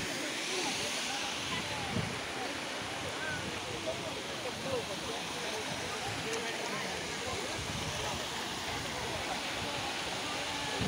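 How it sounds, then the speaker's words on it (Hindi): Ananthgiri waterfall at Araku runs low outside the rainy season, yet it still gives a steady, broad rush of falling water that holds without a break from start to finish. "यही है अनंतगिरी वाटरफॉल्स"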